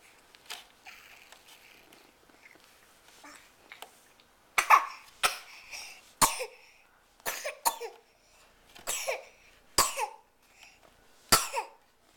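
A small child coughs in a series of short, close bursts, with quieter breathy sounds between them and no talking.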